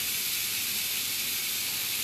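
Seekh kebab on an oiled griddle gives off a steady, even hiss of sizzling that stays constant throughout, with no talking.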